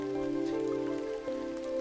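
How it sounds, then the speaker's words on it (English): Steady rain falls outside, a continuous soft patter with an even, unbroken texture and a low steady hum beneath it. "The rain outside softens again, becoming a whisper too delicate to separate from your own breathing."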